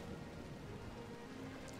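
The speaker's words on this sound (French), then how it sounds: "Et il pleut." Rain falls in a Total War: Attila battle, a faint, even patter that runs steadily throughout with no voices over it.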